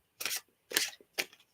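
Tarot cards are shuffled in three quick, crisp riffling bursts separated by short pauses, close and clear with no talking.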